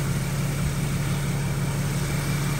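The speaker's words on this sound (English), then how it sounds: "I hear exhaust leak. Exhaust is leaking somewhere." Infiniti M37x car engine idling with an exhaust leak, a steady, continuous low rumble with a constant hum and no pauses, close by and fairly loud throughout.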